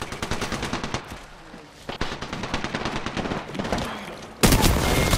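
Sustained machine-gun fire in a shooter game, dense rattling bursts close up, with a brief pause and an even louder volley at the end.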